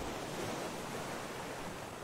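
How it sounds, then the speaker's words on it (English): Storm wind and waves in the video game Raft, a steady broad roar of gusting wind and surf with no breaks, fairly quiet and without talk. "Wind is getting a little loud."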